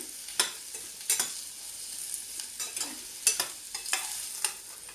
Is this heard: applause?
no